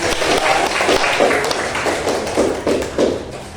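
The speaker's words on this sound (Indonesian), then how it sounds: "Berikan dulu tepuk tangan untuk teman-teman" Classmates at a teaching practicum session give a short round of applause, steady clapping from a small group in a room with a few voices mixed in.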